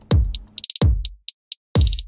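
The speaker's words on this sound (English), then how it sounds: "Hi-hat." Kick drum hits paired with short bright hi-hat ticks in an electronic track's drum pattern, the hats landing as crisp separate taps between the booming kicks, played alone without voices.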